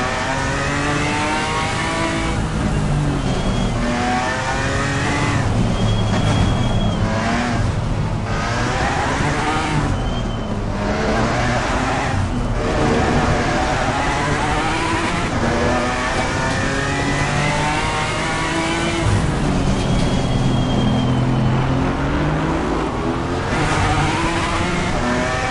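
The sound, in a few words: race car engine revving, Assetto Corsa Competizione video game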